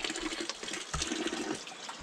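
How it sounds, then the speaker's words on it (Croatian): Spring water gurgles and splashes steadily into a bottle at a spring in Spain, a close, continuous rushing trickle with no talking. "Stavit ćemo u ovu bocu vodu koja pomaže radu bubrega."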